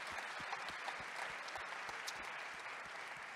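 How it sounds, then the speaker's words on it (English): Faint audience applause for a cousin at a book event, a thin steady patter of clapping with scattered individual claps, quiet and fairly distant, no voices. "please send a big round of applause to my cousin Sarah for getting this book done"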